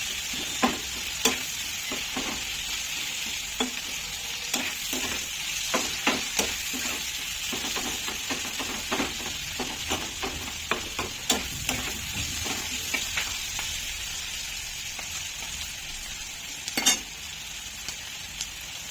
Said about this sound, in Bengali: তো পেঁয়াজটা লাল করে ভাজা গেছে বন্ধুরা